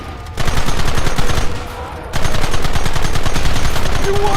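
Dense, rapid gunfire in the Red Dead Redemption video game, with machine-gun-like bursts and overlapping shots. It runs loud and continuous, thickening into an even heavier barrage partway through.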